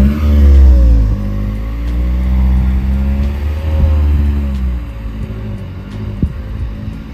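A car engine revs and idles outside during a test drive, a loud low rumble with rising and falling harmonics as the throttle is blipped, heard from nearby with no talk.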